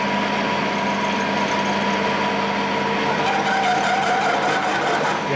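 Steady lathe whir with a high tonal hum as it drills, running throughout, loud and close, with a slight pitch shift late on and no voices.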